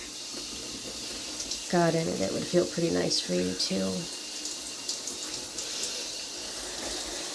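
Hot shower water running steadily in a bathroom, a constant close hiss that goes on under a person talking.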